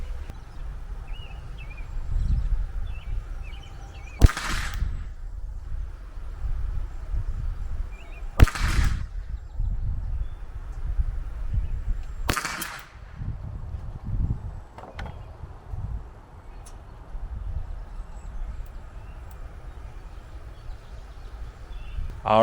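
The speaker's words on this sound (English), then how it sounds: "Now I'm going to shoot those sighters." Three sharp .22LR rifle sighter shots crack out at roughly four-second intervals, each a brief loud report over steady outdoor background noise at a shooting range, with a softer fourth pop later.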